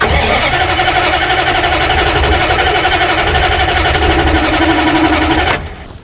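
An old Dodge Ramcharger engine that has sat for 20 years cranks steadily on brake cleaner without firing, a loud continuous rhythmic starter churn that stops abruptly near the end.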